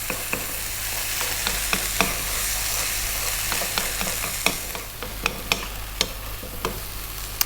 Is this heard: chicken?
yes